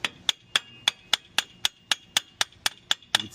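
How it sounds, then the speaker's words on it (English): A hammer strikes metal on a Ford Explorer ST rear axle about a dozen times in a quick, even rhythm, each blow sharp and ringing, close by. "So essentially what we're going to do is use this hammer."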